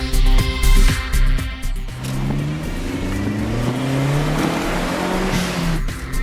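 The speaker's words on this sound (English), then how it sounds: "We've increased our rev limiter and it's sounding pretty mean" Tuned car with a reflashed ECU, extra boost and a raised rev limiter, accelerating hard on a test drive: a loud engine roar climbing steadily in pitch through the revs, heard up close.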